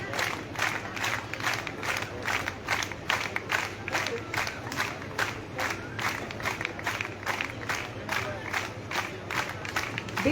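An audience at a girls' college convocation ceremony in Dhand Dadwana claps in steady, rhythmic unison. The loud, continuous crowd applause carries a faint murmur of voices throughout.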